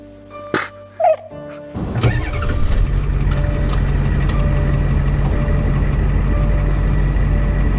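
A 1990 Ford truck with a 7.3 diesel engine cranks and fires up after a few clunks and a dog's bark. It settles into a loud, close, steady idle clatter that runs on alone.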